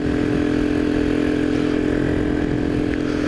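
A Kuba Dragon 50 motorcycle ridden at night, its engine droning steadily and loudly up close with a constant hum and no breaks.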